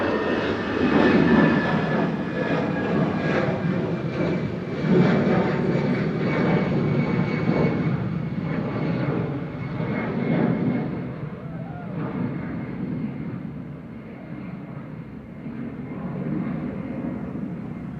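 An Airbus A319 on its departure roll at Manchester Airport, bound for Palma de Mallorca: a loud, steady jet engine roar with broadband rumble and whine, holding strong before slowly easing as it climbs away.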